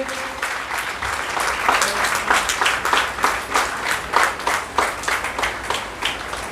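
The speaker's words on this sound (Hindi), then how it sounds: "कृपया तालियों से स्वागत कीजिए।" Audience at a Bharthwal family foundation-day gathering at Garhwal Bhawan breaking into dense, sustained applause to welcome a speaker, loud and continuous with no talking over it.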